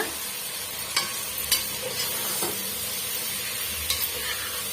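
Potato pieces get stirred into a sizzling tomato gravy for a potato and pea kurma in a pan, a steady frying hiss with a few soft scraping strokes of the spoon, close and moderately loud.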